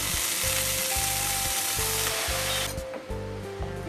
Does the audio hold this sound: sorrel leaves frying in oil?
yes